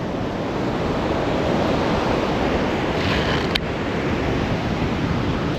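Strong wind buffeting at a beach by a break wall, a continuous rushing roar with surf mixed in, loud and steady, with a brief knock partway through.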